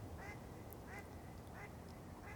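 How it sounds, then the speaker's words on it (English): A duck quacks at night, four evenly spaced calls at middle distance over a steady low background hum, with no talking. "And that damn duck's been quacking all damn night."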